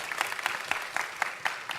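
An audience at a corporate presentation claps briefly, with a light, fairly sparse patter of hands in a quick, even rhythm at moderate distance.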